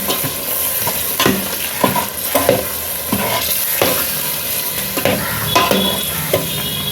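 Biryani masala gravy with butter and biryani spices fries loudly in a pan, a constant hiss broken by regular scraping stir strokes roughly every half second.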